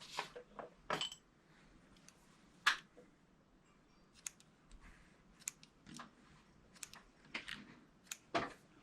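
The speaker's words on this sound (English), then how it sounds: "I'm going to snip all the other ends." Yarn ends being snipped with scissors beside a Passap E6000 knitting machine, heard as a scattering of short, sharp clicks and snips at irregular intervals against a quiet background, fairly close.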